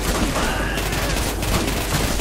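A close, continuous barrage of rapid gunshots from executions in the game Hatred, dense and loud for the whole brief moment.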